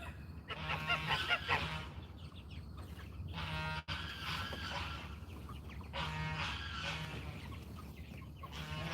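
Geese honking in bursts during farmyard chicken chores, loud repeated calls rising and falling over a steady low background rumble.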